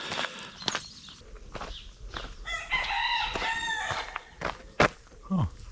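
A rooster crows once on a rural farmstead on Mallorca, loud and fairly close, amid clucking hens, footsteps and scattered farmyard knocks.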